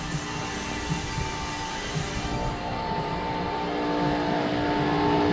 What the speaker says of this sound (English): Hector's noisy pump.